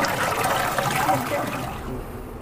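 Cooked egg noodles are rinsed in water, giving a steady splashing and sloshing of liquid, close and fairly loud throughout, with faint voices mixed in.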